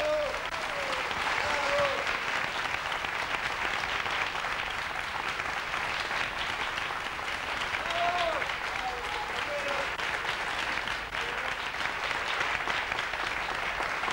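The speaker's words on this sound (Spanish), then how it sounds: "me gustaría que haya un aplauso fuerte de toda la gente" Studio audience at a live radio-program taping gives sustained, even applause for about fourteen seconds, dense and moderately distant, with faint voices and a whistle-like tone cutting through at moments.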